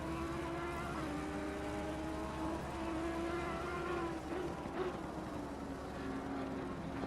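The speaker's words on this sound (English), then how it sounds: "We still want the game, we still want to hear the cars and that lot" GT3 race cars lap Mount Panorama in the game Assetto Corsa Competizione, one engine droning steadily at high revs with gear-shift wavers, fairly faint and continuous.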